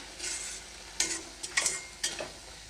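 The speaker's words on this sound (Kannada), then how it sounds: "ಇವಾಗ ಇದನ್ನು ಚೆನ್ನಾಗಿ ಮಿಕ್ಸ್ ಮಾಡ್ಕೊಳ್ತೀನಿ" A spoon stirs ghee into a rice flour mixture in a pan while making sweet kadubu. Several short scraping strokes with a faint sizzle come up close, spaced irregularly, with no voices.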